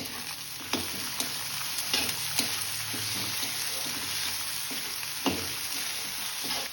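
Curry leaves, chopped potato, carrot and green peas fry in a pan for a Karnataka-style kara bath, with a steady broadband sizzle and occasional soft scraping stir strokes, fairly close and with no talking.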